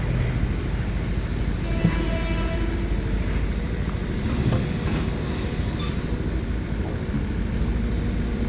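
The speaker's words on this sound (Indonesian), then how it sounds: "Tuh, kereta api melintas lagi." A train passes on a railway line near a mud-dredging excavator site by an apartment block, a continuous loud rumble and rolling rattle of cars that holds steady throughout with no voices.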